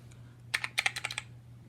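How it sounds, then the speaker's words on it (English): Clicky Alps mechanical keyboard keys pressed in a quick burst of about eight sharp clicks, close and crisp over a steady low hum. "Look at how clicky this keyboard is."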